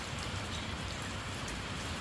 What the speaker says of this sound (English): Raining and windy out here.